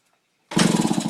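A 1977 Honda NC50 moped, missing its exhaust, bursts into life after a silent pause, a loud, buzzy, rapid-firing small two-stroke rattle that continues steadily to the end.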